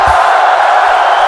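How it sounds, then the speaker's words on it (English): Crowd cheering and whooping in a steady, loud roar of many voices, brief and continuous with no single voice standing out. "that was definitely worth cheering"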